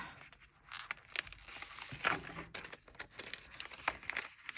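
Washi tape being peeled, laid down and pressed onto a journal page, quiet close crinkling and light tearing rustles in an irregular rhythm.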